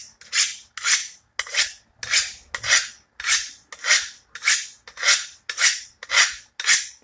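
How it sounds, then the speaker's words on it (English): A kitchen knife is sharpened with about eleven evenly spaced, bright rasping strokes, each swelling and cutting off sharply, loud and close with no talking. "I need to sharpen my knife"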